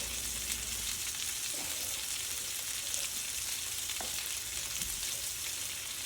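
Pork chops sear in a hot pan with garlic, thyme and rosemary, a steady close sizzle and crackle running throughout with occasional faint pops, no talking.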